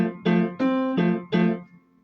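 Piano playing the opening of a Beethoven piece without accent marks, four sustained chord strikes at an even, moderate pace, each ringing out before the next, with the last fading into silence; no talking.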